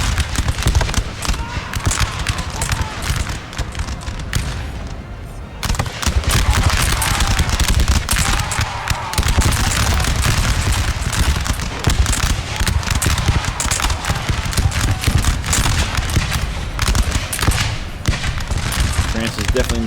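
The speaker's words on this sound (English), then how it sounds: "Looks like all 4 cannons here trained on this one unit alone." Massed cannon fire from four guns in a Napoleon: Total War battle, dense, loud booms and crackling volleys rolling continuously with a brief lull, heard alone without talk.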